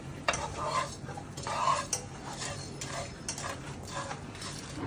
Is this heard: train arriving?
no